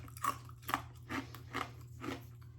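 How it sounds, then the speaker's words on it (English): Crunchy homemade copycat Great Grains cereal flakes are chewed close up, giving five crisp, evenly spaced crunches over a low, steady background hum. "Can you hear how crunchy those are?"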